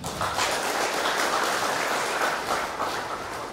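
An audience claps for Gus Islah at a gathering, dense, steady applause from many hands filling the whole moment with no voices over it.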